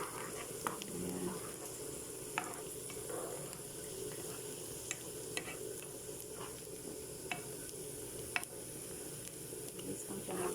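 Chili garnish fries in a pan with a soft, steady sizzle and occasional scraping stirs, quiet and close.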